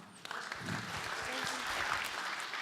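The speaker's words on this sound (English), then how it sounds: "A round of applause for our question asker." A tech conference audience claps steadily and fairly loudly for a few seconds, with some voices and murmuring mixed in.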